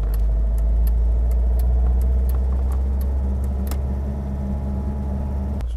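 A Citroën DS engine idles with a steady low rumble, close and even throughout, with faint clicks and ticks on top.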